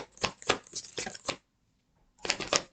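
Tarot cards riffled and shuffled in quick, crisp bursts, a run of snappy flutters, a short pause, then another brief shuffle, up close.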